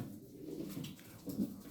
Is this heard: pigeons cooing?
yes